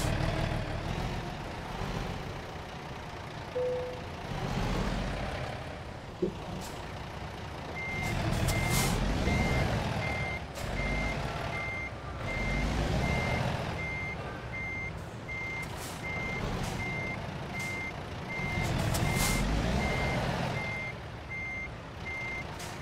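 A reversing truck with trailer in American Truck Simulator emits a steady, evenly spaced beeping alarm over a rumbling diesel engine that swells and eases, with a hiss of air brakes partway through and no talking.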